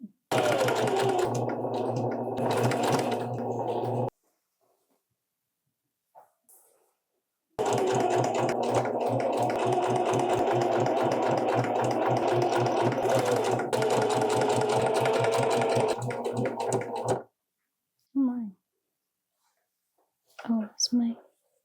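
A sewing machine stitches the Lane Pants in two long bursts of steady, rapid needle chatter, close and loud, separated by a pause, with brief quiet voice sounds near the end.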